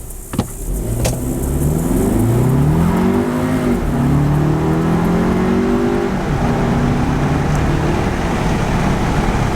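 A 2018 VW Atlas with a 2.0L turbo engine accelerates hard from a stop on a highway. Its engine note climbs and drops through several gear changes, close and loud, with a brief thump at the start.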